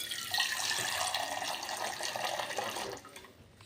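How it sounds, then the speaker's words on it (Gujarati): Tap water running steadily into a cooking pot for about three seconds, a close, continuous rushing stream that then tapers off, with no voices. "હવે પાણી ભરી લઈએ"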